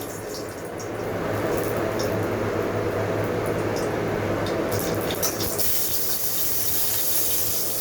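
A dried red chili, broken in two, drops into hot oil for jalpai chutney and sets off a steady, loud hissing sizzle that swells after a quiet start and keeps going with bubbling crackle.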